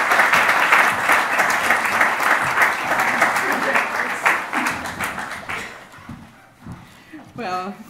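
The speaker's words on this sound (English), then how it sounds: "Please join me in robust applause." A conference audience gives a lecture speaker a round of applause, a loud, steady patter of many clapping hands that fades out after several seconds before a voice begins speaking.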